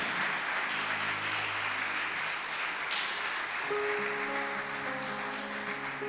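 Church congregation applauding during a Spanish-language sermon service, a steady, fairly quiet wash of clapping over sustained keyboard tones.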